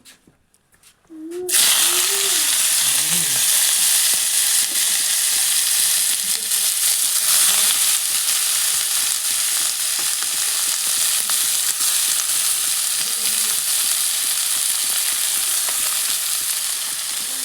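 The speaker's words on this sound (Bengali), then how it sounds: "তো পেঁয়াজটা প্রথমে লাল লাল করে ভাজি নেবো" Chopped onions hit hot mustard oil in a wok with a sudden loud sizzle that settles into a steady, dense frying hiss. A faint voice is briefly heard early on.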